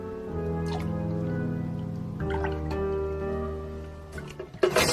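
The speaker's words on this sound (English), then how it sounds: "Let's get the lye in there." Lye solution is poured into cold-process soap oils containing cocoa butter, beeswax and kaolin clay, giving a steady liquid stream with a shifting tonal ring that ends in a few splashy drips.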